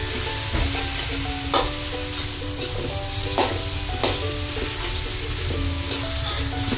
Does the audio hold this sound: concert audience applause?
no